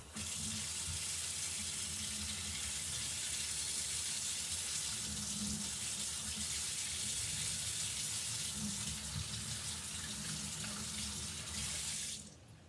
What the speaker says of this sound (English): I'm going to go rinse it under water before I switch to the green.